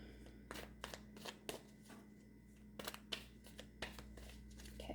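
Tarot cards being shuffled make a faint series of quick riffling bursts at an uneven rhythm, close and quiet with no voices.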